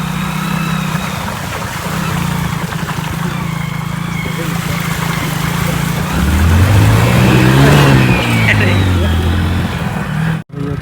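A motorbike rides through Narayani river floodwater, its engine droning steadily and rising in pitch for a stretch as it pushes on, loud and close, with someone speaking over it.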